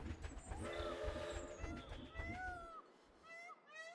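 A train rolls along in the Planet Zoo management game, a steady rumbling clatter with a brief whistle-like tone near the end, heard quietly in the background.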